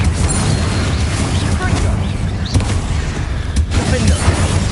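Confringo blasting spell going off in Hogwarts Legacy amid a fight with goblins and spiders, heard as dull booms and crashing impacts within a dense, noisy game mix, with voices partly over it.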